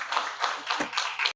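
Audience applause at a civil society forum event on HIV and early pregnancy prevention: a short burst of scattered hand clapping in a hall, moderately faint, with a low hum underneath.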